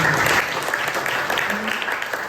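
A church congregation claps for a speaker after a testimony, loud and close, a dense, even burst of many hands with faint voices mixed in.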